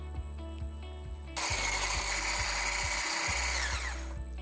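An electric hand mixer whirs loudly and steadily for about two and a half seconds, beating eggs with powdered sugar for a cake, after a quieter stretch of low periodic clicks.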